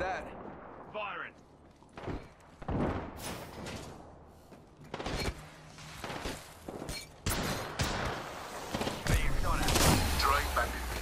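Bursts of gunfire and impacts ring out in Apex Legends, with irregular loud shots and thuds alongside game voice lines and talking.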